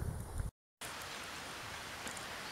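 Steady soft hiss of rain falling on trees in El Salvador, broken by a brief silent gap, with no voices.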